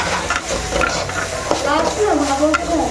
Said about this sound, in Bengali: আমি এখন ওলকপি ভাজছি